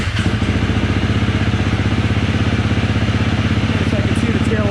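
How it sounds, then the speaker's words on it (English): A KTM 350 EXC-F dirt bike engine running at a steady idle, a loud, close, even mechanical throb with a fast regular pulse lasting throughout. "we'll start the bike"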